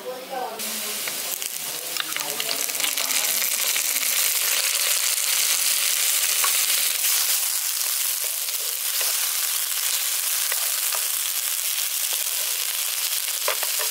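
Browned onion fries in hot oil as ginger garlic paste is added, giving a loud, close, continuous sizzle and crackle that flares bright when the paste hits the pan, with a spoken voice briefly at the start.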